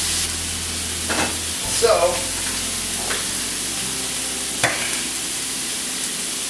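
Pasta sauce with meat cooking in a pan, giving a continuous close sizzle and hiss with a few stirring clinks, while someone talks briefly over it.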